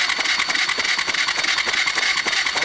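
A 1999 Suzuki DR200 motorcycle engine cranks over, producing a fast, even chugging pulse of repeated turnover strokes, close and steady throughout with no speech.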